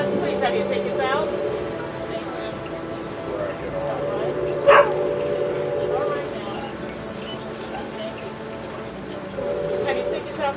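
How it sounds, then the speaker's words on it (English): A dog barks aboard a passenger train on a winter ride from Cary to Raleigh, North Carolina. The barks are short and sharp, with one louder yelp, over a constant rumble of the train and voices talking. "Dog bark, man."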